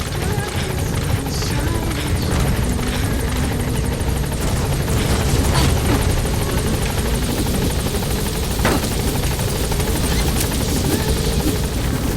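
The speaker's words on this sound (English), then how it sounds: "Support helicopter has arrived." A support helicopter sets down at a landing zone in Metal Gear Solid V: The Phantom Pain, its steady rotor roar loud and continuous throughout with little variation.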